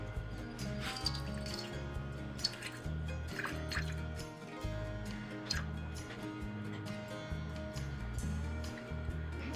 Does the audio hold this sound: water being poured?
yes